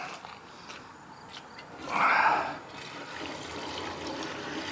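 Fuel pours from a container into the tank of an EFI-swapped AMC AMX. A brief, louder gush of liquid swells and fades midway over quiet background noise.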